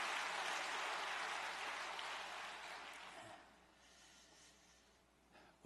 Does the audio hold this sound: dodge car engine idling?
no